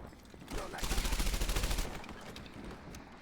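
Rapid automatic fire from a Thompson submachine gun in the World War II shooter Medal of Honor Airborne, a loud sustained burst of evenly spaced shots lasting about a second amid game ambience.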